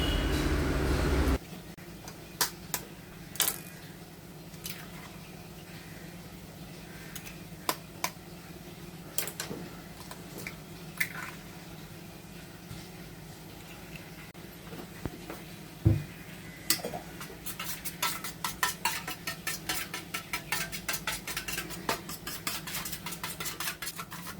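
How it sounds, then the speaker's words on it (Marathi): Three eggs are cracked into a bowl and mixed with a utensil, giving sharp clinks and taps against the dish scattered through a quiet stretch, with a denser run of clinking near the end. "आता इथे बघा मी 3 अंडी घेतलेत. ते आपण फोडून त्याला मिक्स करून घ्यायचं आहे."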